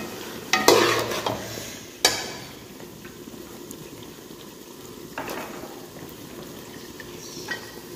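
Pea, potato and tomato curry being stirred in a pot, a few scraping strokes and soft sizzling up close, with a quiet simmering bubble in between and no talking.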